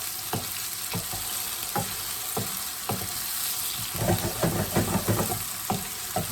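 Garlic fries in a pan with a constant bright sizzle, punctuated by regular scraping knocks of a utensil that grow busier and more clustered toward the end.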